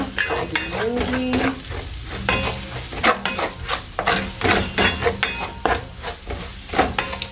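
Chicken stir fry with basil and oregano sizzles in a pan while being stirred slowly, with rhythmic scraping strokes over steady frying crackle, close and without speech.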